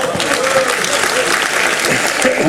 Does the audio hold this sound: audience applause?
yes